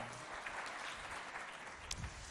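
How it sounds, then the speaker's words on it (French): A school quiz-show audience applauds the jury members, a continuous wash of crowd clapping at steady level with no break, filling the whole stretch. "On les applaudit bien fort, les 3 tontons qui viendront ici"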